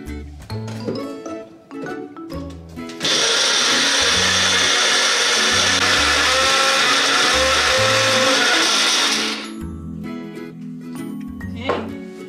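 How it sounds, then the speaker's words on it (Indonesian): Blender grinding soaked ingredients for pempek fish cakes, starting suddenly and roaring loud and steady for about six seconds before cutting off, with kitchen clatter and low rhythmic music around it. "Dan garam itu nanti ya, kita blender lagi seperti ini ya"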